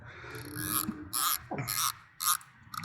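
The 12 mil elevation turret on a Nightforce ATACR rifle scope is turned, making a few short, close clicking bursts separated by brief pauses.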